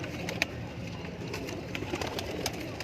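Teddy pigeons at a large breeding set near Lahore coo softly and repeatedly in a continuous murmur, with faint flutters and small clicks from the loft around them.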